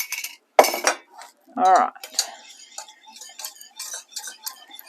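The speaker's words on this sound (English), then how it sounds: "Mix that yolk in." A metal spoon clinks and scrapes against a pan while an egg yolk is stirred in, in short irregular taps close by, with a brief spoken word between strokes.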